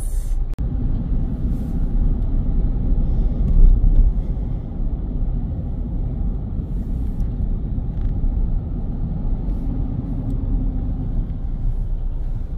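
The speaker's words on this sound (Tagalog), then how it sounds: "Traffic jam." Steady low engine rumble of city road traffic in Melbourne, with cars idling and creeping along in a jam; continuous and fairly loud throughout, with no talk.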